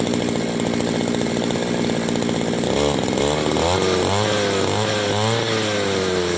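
A gasoline grass cutter engine runs near and loud with a steady buzzing drone, then revs up and down in rising and falling surges during the second half.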